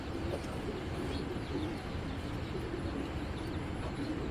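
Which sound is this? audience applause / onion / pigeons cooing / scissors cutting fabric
pigeons cooing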